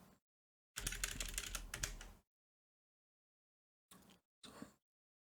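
Bursts of typing on a computer keyboard, a dense run of quick clicks followed after a pause by two short flurries of keystrokes, close and clear with silence between.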